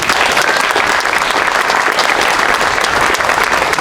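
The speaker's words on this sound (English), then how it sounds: "can we get a big round of applause for all those who have come out and to celebrate this awesome day?" A crowd gathered for a Flag Day celebration in Batavia breaks into loud, sustained applause, dense hand-clapping filling the space evenly from start to finish.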